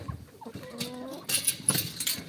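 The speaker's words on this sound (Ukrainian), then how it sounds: "Кури, кури, кури, кури." Chickens cluck and murmur softly nearby, with brief scratchy movement noises and a few sharper squawks toward the end.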